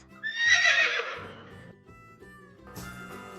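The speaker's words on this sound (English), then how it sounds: "Horse." A horse gives one loud, shrill whinny that falls in pitch, close and clear, with faint clip-clop and snorting sounds after it.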